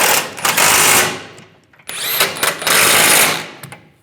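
A power tool runs in two loud bursts, briefly easing off between them, as it tightens nuts on the outer bumper step pad of a 2007-2013 Chevy Silverado 1500.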